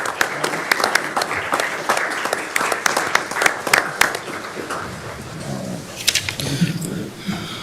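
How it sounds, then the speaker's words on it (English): A room of attendees at a Board of Commissioners meeting claps in a sustained burst of mixed hand claps that thins out and tapers near the end, with brief murmurs among the crowd. "After everybody's clapped for a while,"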